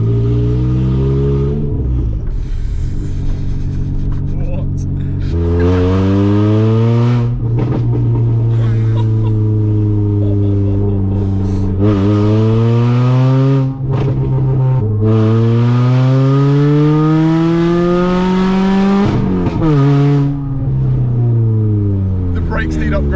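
A heavily modified family car's engine is very loud and close on its first drive, roaring continuously as the revs sweep up and down again and again.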